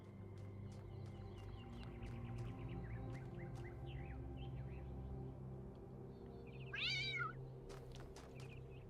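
A single cat meows in The Talos Principle II, a brief rising-falling call near the end over soft music and faint chirps.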